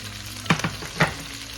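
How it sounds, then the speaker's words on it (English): Garlic, onions and tomatoes sautéing in a pan for pork sinigang, a soft continuous sizzle broken by three quick thumping scrapes of stirring, with no voices. "Now let's start sauteing. We'll add our aromatics here, the garlic, onions, and tomatoes."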